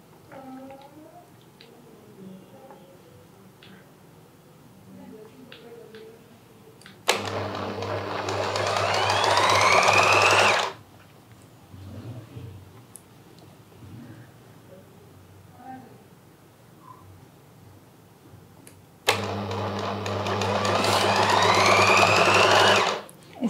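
A sewing machine stitches the cuff of an Aladdin-style Afghani salwar in two bursts of steady, fast whirring, each lasting a few seconds, with quiet pauses between them and no talking.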